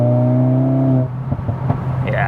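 A Mercedes-AMG A45 S pulls hard with a loud, steady engine drone for about a second, then the note drops away into cabin rumble and shuffling noise.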